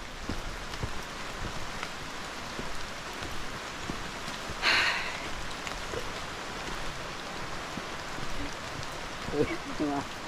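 Steady rain hisses throughout on a forest trail near Salatdai waterfall, Nakhon Nayok, Thailand, a dense even wash of noise with a brief louder burst midway and faint talk in the background.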